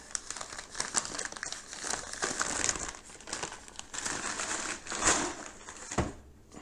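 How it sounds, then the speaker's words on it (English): Packaging wrap being unwrapped from a Mick-O-Pegs parcel, with continuous close crinkling and crumpling of plastic or paper and several sharper rustling bursts, no voices. "do some more unwrapping here."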